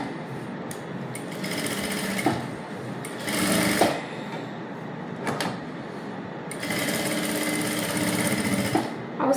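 A sewing machine stitches the neckline of a stiff cotton princess-cut blouse in several rapid whirring bursts, with short pauses and clicks between runs, close and loud.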